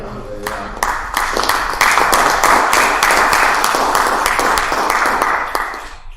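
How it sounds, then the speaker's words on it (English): Sustained applause from a room at a school board meeting, a dense wash of many hands clapping that swells quickly and holds steady for several seconds before easing off. "I just think they all need a round of applause"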